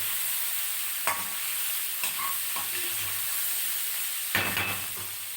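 Capsicum and potato curry sizzling steadily in a pan, with a few distinct scraping stirs of a spoon breaking through the constant frying hiss, the loudest near the end.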